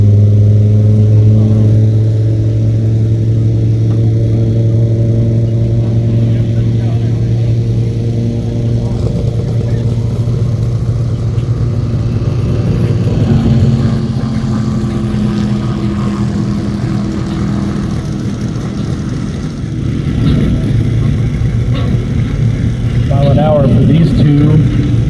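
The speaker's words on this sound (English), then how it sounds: "as you guys just saw on that run, ran against a identical, basically wide body super stock" 800 hp Dodge Challenger Hellcat Redeye wide body launching on a half-mile drag strip, a loud sustained engine roar that climbs in pitch through the gears, then fades and swells again as the car races away.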